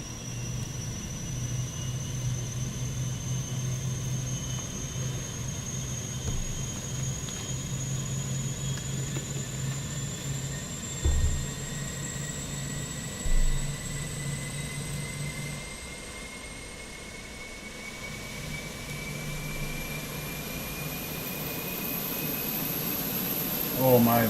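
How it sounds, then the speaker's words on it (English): The APU of a Fenix Airbus A320 runs in Microsoft Flight Simulator: a faint, steady mechanical hum and rumble with thin, high whining tones slowly rising in pitch, plus a couple of soft thumps. "And let's wait for the Apu."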